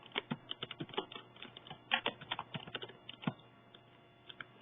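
Text is typed into an Excel cell on a computer keyboard, producing a fast run of soft, close key clicks that thins out into a few scattered taps near the end, with no voices.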